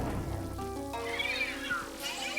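The Polter Kitty, a ghost cat in the video game Luigi's Mansion 3, lets out a drawn-out meow followed by a higher, wavering yowl, heard clearly over faint game background sounds.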